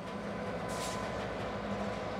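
A special rail delivery train carrying quarter-mile-long welded rail segments rumbles steadily past, with a continuous rolling drone and a brief brighter hiss partway through, heard alone without talk.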